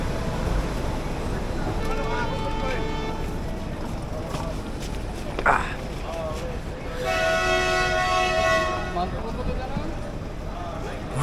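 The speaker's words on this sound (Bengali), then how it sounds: "আমরা যে ট্রেনটা এলাম এটা হচ্ছে তিস্তা তোরসা" The Teesta Torsa Express pulls into Malda Town station amid a steady rumbling hum. A loud, sustained horn sounds near the end, and voices talk over the background.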